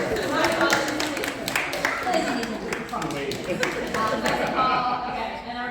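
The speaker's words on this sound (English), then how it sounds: "We'll give them a big round of applause." A conference audience at an interior design panel gives a round of applause with crisp, overlapping claps at moderate volume, and a voice speaks over the clapping.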